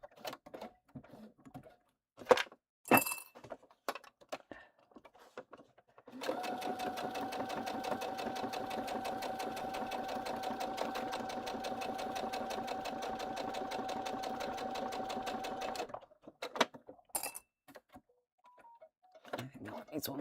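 A sewing machine runs steadily for about ten seconds while stitching a bag, loud and close, framed by brief talk and handling clatter before and after.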